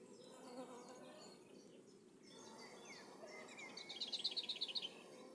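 Honey bees buzz on a beehive frame holding honey and bee bread during hive expansion in April, a soft steady hum with a faint buzzing pulse near the end.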